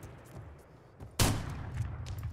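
A single loud, sharp sniper rifle shot cracks out in the video game Arma 3, fired from a bipod, following a quieter stretch of low rumble and trailing into a lingering low-frequency echo.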